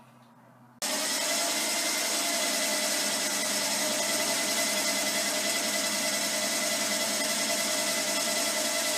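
A lathe starts up and takes a light cutting pass on a mantle clock part, shifting from quiet to a loud, steady whirring drone with a faint squealing tone, close and without talk.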